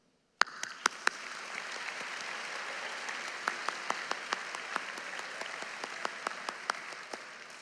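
Applause from a 2022 graduation audience, beginning abruptly and holding as a steady crowd of clapping hands, with a few sharper nearby claps standing out over the rest.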